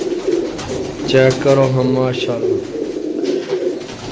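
Pigeons coo in a few soft, rounded pulses close by, mixed with someone talking over them.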